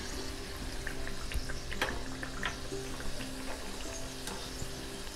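Karanji pastries frying in oil in a small iron kadhai, a steady close crackling sizzle with faint bubbling and occasional sharper pops, alone without talk.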